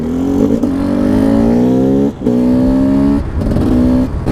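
A 54-horsepower motorcycle revs hard on a road, its engine note climbing through several rising pulls with brief drops between gear changes, loud and close, with no talk.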